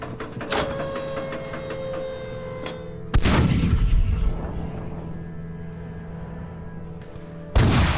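Artillery fire from New Zealand guns supporting US tanks during a Korean War withdrawal at Kapyong: two heavy, loud booms with long rumbling decay, the first landing mid-clip and the second near the end, over a steady layered din of battle.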